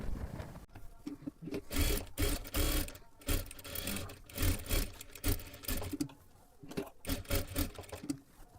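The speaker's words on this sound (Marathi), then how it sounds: "आता इथे आपल्याला परत एकदा डबल शिलाई मारून घ्यायची आहे" A sewing machine double-stitches lace onto a blouse in several runs of rapid mechanical whirring, each a second or two long with short pauses between, close and fairly quiet.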